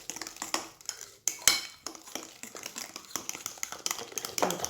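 A utensil scrapes and clinks against a bowl while semolina, eggs and baking powder are mixed into a dough, giving irregular close taps and soft gritty scraping with no voices.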